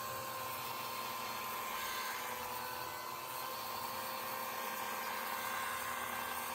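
A power polisher buffs compound on a Buick hood, a steady high motor whine with a continuous whirring hum at even loudness throughout and no talking.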